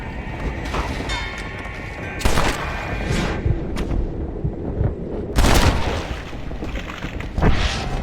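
Gunfire in the Red Dead Redemption: Undead Nightmare video game, with several loud sharp gunshots, two heavy blasts near 2.3 and 5.5 seconds and a third toward the end, over a rumbling game soundscape.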